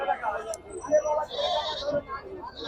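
Goats bleating at a busy village goat market, short calls rising now and then amid steady crowd chatter and voices nearby.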